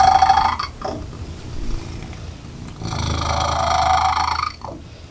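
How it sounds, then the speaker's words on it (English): A cat purrs loudly and close by in two long rumbling stretches, with a brief pause between them and no talking. "And she purrs."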